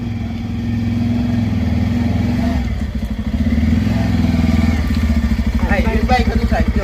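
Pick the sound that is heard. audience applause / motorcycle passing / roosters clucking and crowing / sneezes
motorcycle passing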